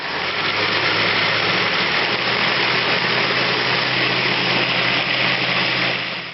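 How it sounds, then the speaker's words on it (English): A blender whirs steadily and loudly without pause, blending a Western Indian style red curry masala paste with a little water added. "And then we're going to blend it."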